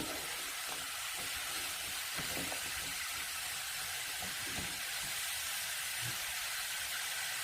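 Sizzling hiss from ingredients being stir-fried in a pot for Korean beef and radish soup, a steady, even crackle with small pops, moderately quiet and with no voices.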